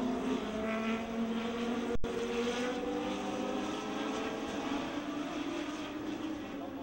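Race cars roar on an oval speedway at the start of a race, a loud, sustained engine drone with shifting pitch as the field sweeps through the turns, with one brief dropout.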